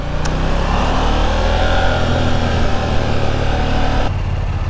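A KTM 890 Duke R motorcycle engine pulls away on the road, loud and close, with a steady rising drone that holds throughout, no voices.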